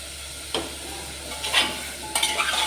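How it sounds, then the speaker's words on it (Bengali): A spatula stirs chopped onions, carrots and tomatoes in a hot pan, giving a soft, steady sizzle with three brief scraping sweeps across the metal. "সবটা একসাথে একটু নাড়িয়ে চাড়িয়ে নিই।"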